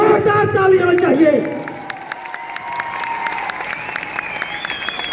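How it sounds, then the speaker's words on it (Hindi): An indoor audience at a Safe Shop event in Talkatora Stadium bursts into loud, dense clapping that fades after a second or so, as an amplified voice and tones carry on over thinning applause. "सतीश ठाकुर साहब के एक बार जोरदार ताली होनी चाहिए"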